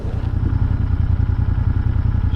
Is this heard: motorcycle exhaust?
yes